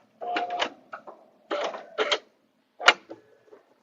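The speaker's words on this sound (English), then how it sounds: "lock it and cut my stitches with my machine" A quilting machine locks and cuts its stitches on a butterfly bed runner, giving several short bursts of mechanical whirring and clicking separated by brief pauses, close and moderately loud.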